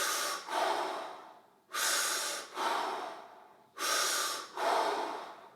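A person draws in and lets out deep, slow breaths through the nose while squatting and turning the head, each long airy breath loud and close, with short pauses between them.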